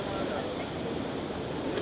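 Steady broadband rush of water pouring down at Lake Esmeralda near Puerto Montt, Chile, a continuous close roar with wind noise across the microphone.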